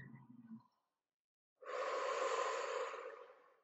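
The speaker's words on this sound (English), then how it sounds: "you can hear my puppy snoring behind me" A puppy snoring close by, one soft low breath followed after a pause by a longer, louder raspy snore, with no talk.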